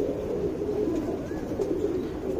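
A tournament racing pigeon gives a soft, low, continuous cooing close by, a steady throaty murmur lasting a couple of seconds, with no speech over it.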